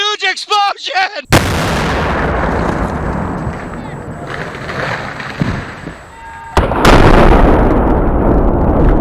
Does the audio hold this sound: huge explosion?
yes